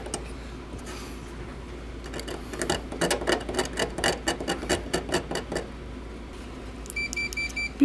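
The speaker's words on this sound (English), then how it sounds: "Beep, beep, beep, beep." An acid-damaged Amiga 3000 circuit board under repair and testing: a run of rapid, regular electronic clicks and ticks, followed near the end by a few short steady beep tones.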